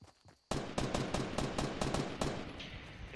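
Gunfire in Fortnite: after a brief quiet moment, a rapid run of about a dozen loud, close shots comes in an uneven burst, then fades into a lingering tail.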